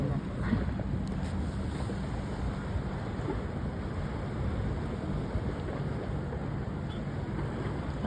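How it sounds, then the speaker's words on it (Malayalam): Another boat approaches over the water, a low continuous motor hum blended with wind noise and soft lapping waves, steady with no clear voices. "അതാ വേറെ ഒരു ബോട്ട് ഇങ്ങോട്ടേക്കും വരുന്നുണ്ട്."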